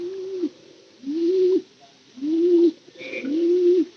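A pigeon coos nearby in four low, rounded calls spaced at a steady rhythm, with faint background hiss between them.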